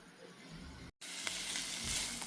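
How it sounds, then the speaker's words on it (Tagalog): Beef tapa sautéing in a pan for a New Year's Eve dinner gives a steady, close sizzle and crackle, with a brief cut to silence partway through before the sizzling resumes, now brighter, with faint stirring clicks. "Ayan, nagigisa na tayo guys ng ating beef tapa."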